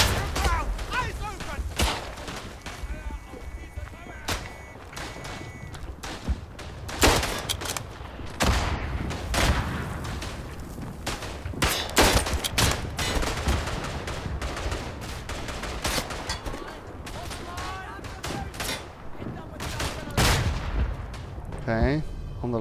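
Artillery and gunfire in the WWI shooter Verdun: dense, continuous volleys of rifle and machine-gun fire with heavy booms and blasts, near and far, sustained loud for the whole stretch with a voice occasionally heard beneath.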